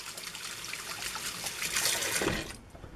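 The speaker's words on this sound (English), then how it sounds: "Fill it with a lot of warm water." Warm water pours steadily into a container, a continuous splashing trickle that swells briefly near the end before tapering off, close by with no talking.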